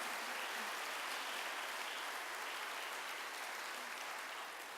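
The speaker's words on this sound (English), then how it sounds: "I think the officials deserve a big round of applause as well for another magnificent race." At a yacht race prize giving, a crowd applauds the race officials with a steady, even wash of clapping, fairly distant and soft throughout.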